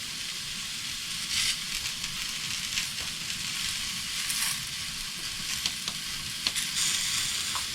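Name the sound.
spices added to garlic frying in a pan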